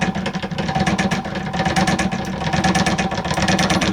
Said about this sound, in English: if you just start them up, you can see there it's quite a nice little treadle action